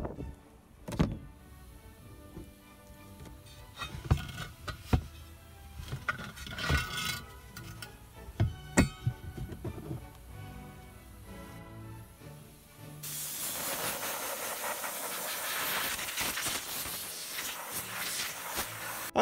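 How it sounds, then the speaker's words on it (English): Rusty steel wheel rim being sandblasted: clattering handling knocks come first, then a loud, steady abrasive hiss of blasting that starts partway through and continues to the end. "I did the other half of the wheel, now I'll sandblast it."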